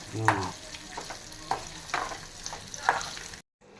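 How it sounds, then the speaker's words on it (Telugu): Coconut pieces roasting in a pan alongside urad dal and green chillies for a coconut chutney, giving a soft sizzle with a few louder stirring scrapes spread through the clip, close by and with no talking. "కొబ్బరి ముక్కలు కొంచెం దోరగా ఏగేదాకా వేపుకోవాలి"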